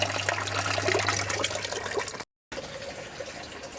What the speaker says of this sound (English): The auto top-up valve is now running.